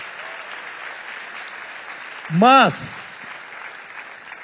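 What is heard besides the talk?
audience applause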